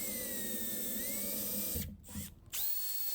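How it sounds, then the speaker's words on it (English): A power drill whines steadily while boring a pilot hole in a PVC pipe cap, then drops out twice in brief pauses before revving back up, close and unaccompanied by speech. "take your PVC pipe cap and drill a pilot hole for the"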